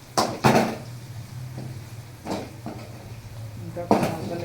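A spoon scrapes and clatters against a pan while fried puffed-rice snacks are stirred, in a few distinct clanking strokes over a low background hum.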